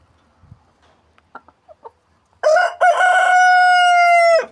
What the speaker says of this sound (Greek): δες το κοκόρ εδώ φωνάζει όλη μέρα.